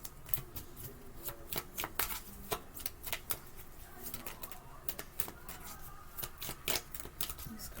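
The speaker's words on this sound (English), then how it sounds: "These cards are like so little. It's so hard for me sometimes to shuffle these." Small playing cards riffled and shuffled repeatedly, a quick crisp flutter of snaps and taps, close up with no talking.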